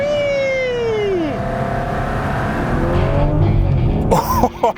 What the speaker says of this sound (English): This is an Aston Martin V12 Vantage S.